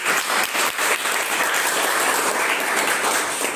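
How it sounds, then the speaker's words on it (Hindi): Schoolchildren in a Giridih, Jharkhand classroom burst into steady, dense applause for a classmate, a close, loud patter of many small hands that carries evenly for several seconds. "ताली बजाएंगे आप लोग अपने साथी के लिए।"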